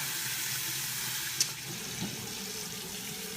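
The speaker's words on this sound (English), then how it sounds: "we're going to rinse now. Some hot water." Hot water running from a bathroom tap for rinsing after a shave, a steady soft hiss of flowing water with a brief splash midway, faint and close.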